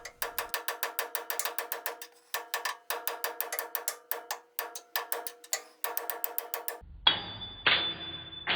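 Rapid metallic hammer blows on a Rockwell lathe part struck from an awkward position, sharp ringing taps in quick bursts with short pauses, ending in a few louder scraping knocks.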